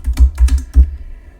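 Computer keyboard keys clatter in quick bursts of several strokes as someone types an email and password into a login form while coding, close and clear with no talk.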